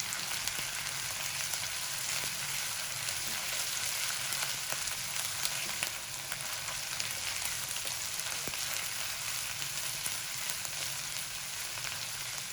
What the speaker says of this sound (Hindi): 1 मिनट के लिए हम इसको भूनेंगे अदरक लहसुन के साथ।